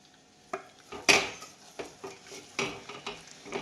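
Khichu, a soft rice-flour dough, stirred in a pan with a spoon, giving a handful of scraping, clinking strokes at an uneven rhythm. The strokes are close and moderately loud, with no talk over them.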